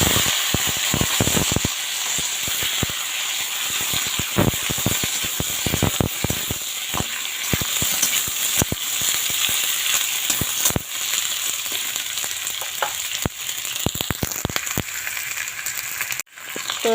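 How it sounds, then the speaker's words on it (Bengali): Whole cumin seeds and bay leaves tempering in hot oil, then cut potatoes and pointed gourd frying: a steady loud sizzle with frequent crackling pops and spatters throughout, ending with a sharp clatter. "তো এখন গোটা জিরে আর তেজপাতা ফোড়ন দিয়ে দিলাম। আর এর মধ্যে আমি এখন দিয়ে দেব কেটে রাখা আলু আর পটল"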